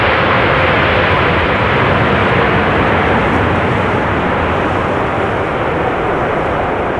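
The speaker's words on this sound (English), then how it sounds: "they engaged the reversers a little bit, because it took a little for everything to be on the ground" An airliner rolls out after landing at Amsterdam Schiphol with its thrust reversers engaged, giving a loud, dense, continuous engine roar that holds steady throughout.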